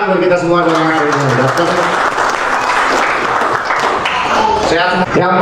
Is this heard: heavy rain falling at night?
no